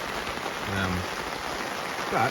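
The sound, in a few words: heavy tropical rain falling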